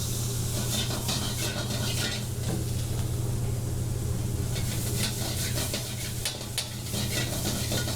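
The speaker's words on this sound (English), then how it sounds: "Onions and tomatoes caramelized in a pisco flambe." Onions and tomatoes stir-frying in a pisco flambé with ginger and fries, a steady close sizzle and hiss under light stirring scrapes, continuous without talk.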